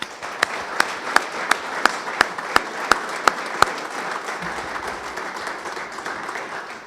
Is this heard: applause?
yes